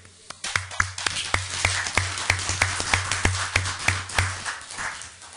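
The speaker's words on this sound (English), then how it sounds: "I think they deserve a round of applause." A room applauds at a board of selectmen meeting honoring a championship boys basketball team, with sharp claps and a rhythmic clapping pattern building, fairly close.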